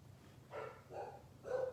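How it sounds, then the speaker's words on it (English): A pet dog gives three short barks spaced about half a second apart, muffled and somewhat distant, at moderate volume with no talking. "Sorry about my dog. Sorry. There's nothing I can do. She's a barker."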